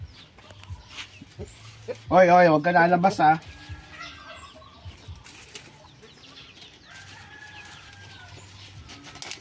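Chickens of Black Australorp and Rhode Island breeds cluck in a loud, harmonic burst lasting about a second, with flapping and a voice in a backyard coop.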